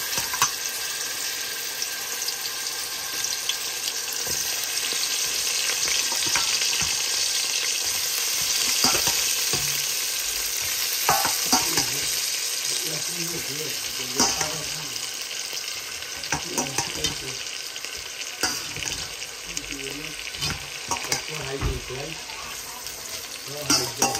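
Oil, onion, garlic and bay leaf frying in a pan, a steady loud sizzle throughout with intermittent scraping and stirring clatter, and faint talk in the background.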